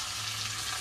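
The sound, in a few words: pond fish frying in pan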